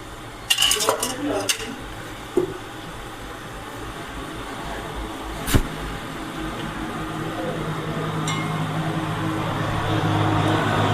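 A metal ladle clanks several times against a cooking pan as oil goes in for tempering Gujarati patra, the sharp clinks bunched at the start, followed by a steady, slowly building hiss.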